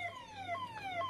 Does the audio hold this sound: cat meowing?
no